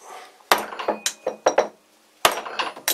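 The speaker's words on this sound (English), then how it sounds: "And now a few light whacks." A few light hammer whacks tap together chuck wedges, giving sharp, close knocks with a woody, clinking ring, arriving in quick bursts with a pause between groups.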